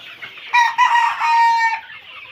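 A Mishri breed rooster crows loudly and clearly, with hens clucking around it, close by on a poultry farm.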